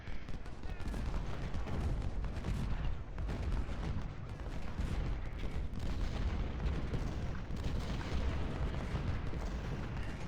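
Musket volleys and artillery rumble from an American Civil War battle in the Ultimate General: Civil War video game, a dense continuous roar of distant gunfire with booms throughout.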